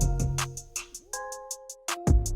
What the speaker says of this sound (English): I can pull in a bell sound